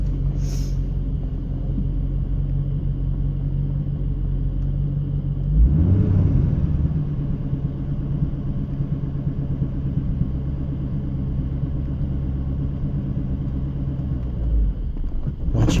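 A 1996 C4 Corvette engine rumbles at low revs while a learner driver lets the clutch out, the note swelling briefly as the car starts to move, then settling into a steady close drone.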